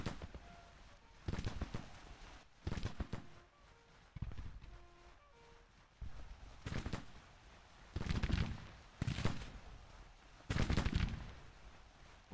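Musket volleys in a Civil War strategy game, a series of muffled, booming bursts rolling out at irregular intervals, some in quick clusters, distant rather than close, with faint tones between them.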